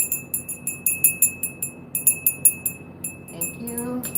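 Bells rung during a tarot energy cleansing, a rapid series of bright metallic strikes in quick rhythmic bursts, fairly close and clear, then settling into a sustained shimmering ring.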